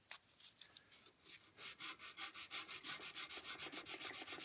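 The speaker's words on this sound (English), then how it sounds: "I just put a little sandpaper on this" Sandpaper rubbing on a swivel breech rifle kit made of wood, a close, soft rasping that starts hesitantly and then settles into a steady, rapid back-and-forth rhythm, with no talking.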